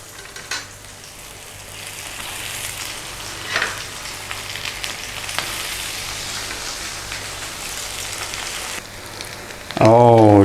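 Tuna cakes with Thai flavours frying in a pan, a continuous crackling sizzle with a few sharper pops, close and steady, before a voice cuts in at the very end.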